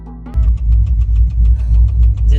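A cammed C4 Corvette engine fires up and runs, with a loud, deep, lopey rumble and a choppy, uneven idle pulse, close and continuous after a brief start.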